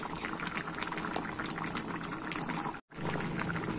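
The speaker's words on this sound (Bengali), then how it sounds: "এখানে আমার মাছটা ফুটেই এসেছে, দেখো তেল ছেড়ে দিয়েছে হালকা হালকা।" Hilsa fish simmering in mustard sauce, a close, steady bubbling and sizzling hiss with dense crackles, briefly cut off near the end before resuming.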